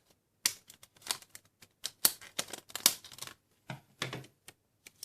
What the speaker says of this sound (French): je vais d'abord déballer le booster sous blister